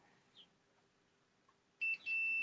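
A multimeter gives a continuity beep as probes touch a solder bridge to ground, a sharp electronic tone starting near the end after quiet tapping, briefly interrupted then resuming.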